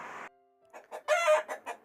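A rooster, frightened after being picked up from the street and released into a garden shed with hens, gives loud, strained crowing cries in short bursts, with harsh squawks toward the end; no talking.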